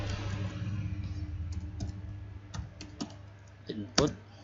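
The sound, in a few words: typing on a computer keyboard while editing code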